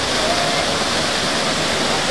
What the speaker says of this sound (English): Here's some locals getting into the waterfall.